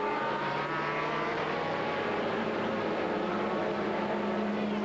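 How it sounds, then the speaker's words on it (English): A BMW Le Mans prototype race car from the previous season runs in a 2000 American Le Mans Series race, its engine a steady, droning whine held at high revs, moderately distant and continuous. "this is not a current car, this is last year's Le Mans BMW"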